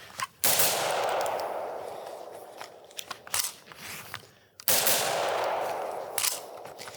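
A resto-mod M16A2 IAR rifle being test fired outdoors: two loud, sharp reports about four seconds apart, each followed by a decaying echo, with faint clatter between them.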